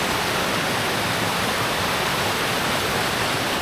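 Nant Melyn waterfall roars with a steady, dense rush of falling water, loud and close, with constant broadband spray and no other sounds breaking through.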